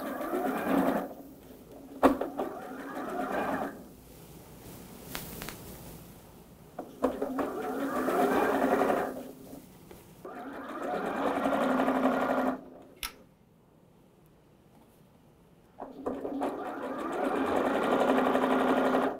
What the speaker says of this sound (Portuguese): Então vamos iniciar a nossa costura.